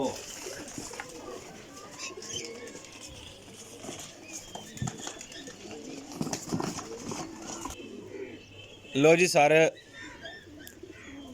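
Golden pigeons at a pigeon dealer's stall, low soft cooing and bird sounds running under steady nearby talk, with a louder burst of calls near the end.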